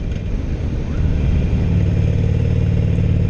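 A 2016 Harley-Davidson Roadster motorcycle rolls along in fourth gear, its engine a loud, steady, close low drone with rushing wind noise and no voices.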